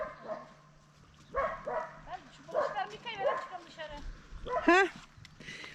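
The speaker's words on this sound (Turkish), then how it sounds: "Bu da bizim Yasemin. Çoban Yasemin" A shepherd dog in a village gives short yips and a whimpering bark close by, mixed in with people talking and laughing.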